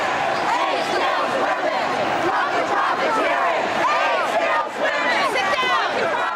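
A large protest crowd outside Trinity Church at the foot of Wall Street in New York City, 1988, chanting and shouting together in a loud, continuous roar of many voices.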